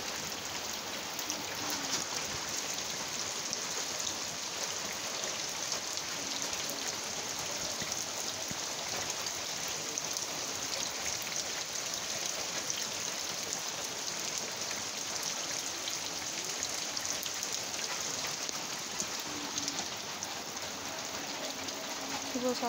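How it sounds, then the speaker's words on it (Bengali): Heavy overnight rain falls in a steady, even hiss over a canal-side setting, continuous and moderately faint throughout with no voices. "আর রাত্রি থেকে প্রচণ্ড বৃষ্টি হচ্ছে এখানটায়, যেন বন্যার দিকে।"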